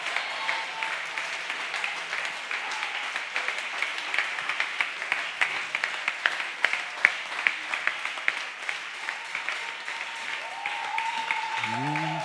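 A church congregation applauds during a sermon, with sustained, moderately distant clapping and scattered sharper claps running throughout, and a voice rising briefly at the very end.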